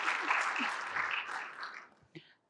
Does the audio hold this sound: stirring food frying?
no